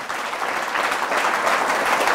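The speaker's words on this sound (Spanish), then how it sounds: "Fuertes aplausos al Señor" Loud, steady applause from a church congregation during a Catholic Mass, dense clapping filling the space without pause.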